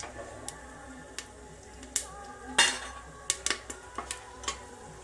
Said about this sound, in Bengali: এবার এর ওপর থেকে আমি 2টো তেজপাতা আর 2টো ছোটো এলাচ আর দারচিনি আছে, আমি এর উপর ফোড়নে দিয়ে দিলাম।